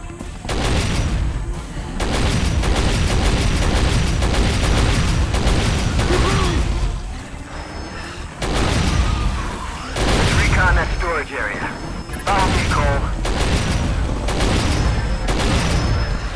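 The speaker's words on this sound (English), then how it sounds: "Marco, put that cannon to good use." Cannon fire rings out in the 2005 PC shooter Area 51: a steady stream of loud booming bursts and rattling gunfire, with game voices talking over the combat.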